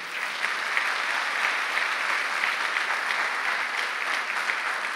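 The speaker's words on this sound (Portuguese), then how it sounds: "Você pode dar um aplauso bem forte para isso?" Loud, sustained applause from a large church congregation, dense steady clapping without a break.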